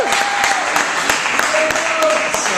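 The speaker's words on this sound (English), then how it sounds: "Let's hear a round of applause, everybody." Comedy club crowd applauding the evening's host, a dense wash of clapping with faint voices mixed in, sustained and fairly close.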